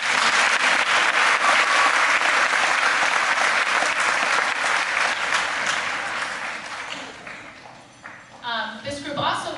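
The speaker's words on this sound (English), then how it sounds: "So a round of applause to those two." An audience at a school spring concert applauds student bands with loud, dense clapping that fades after about six seconds, giving way to a voice speaking near the end.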